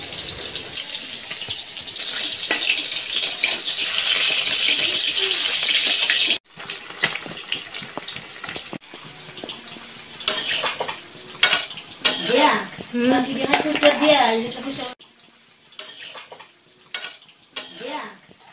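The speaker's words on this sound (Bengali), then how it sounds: "আর এখন মাছ ভাজা হচ্ছে।" Fish fries in a pan in a home kitchen, a loud steady sizzle for the first several seconds, then intermittent clatter and scraping of utensils against cookware with quieter spitting oil.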